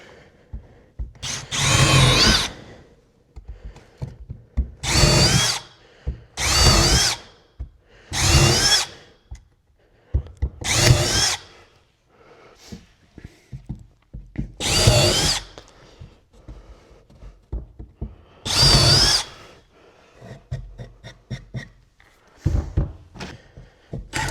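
A power drill drives screws into wooden planter boards in repeated bursts of whirring, about seven loud drill runs separated by short pauses and small handling knocks.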